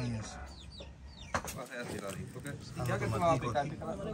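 A hen sitting on guinea fowl eggs clucks nearby on a farm in the Dominican Republic countryside, short clucks under someone talking in Spanish.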